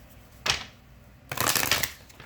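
Two brief riffling bursts of tarot cards being shuffled, a short one then a longer one, close and fairly quiet, with no talking.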